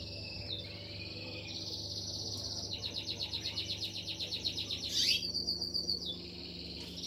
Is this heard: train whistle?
no